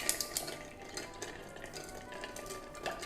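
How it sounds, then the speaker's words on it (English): A bar spoon stirs rum cocktail over ice in a mixing glass, giving soft repeated clinks and scraping rattles of ice against glass, quiet and close, with no voices. "give that a nice stir"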